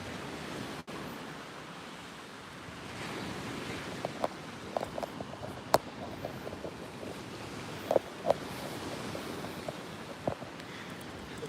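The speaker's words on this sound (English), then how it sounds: "enjoy the sound of the waves" Ocean waves wash steadily onto a beach in Spain, a continuous broad surf roar with some wind across the microphone and a few faint clicks and taps scattered through it, with no voices.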